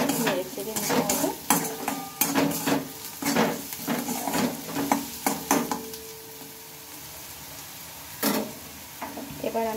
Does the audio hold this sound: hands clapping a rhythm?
no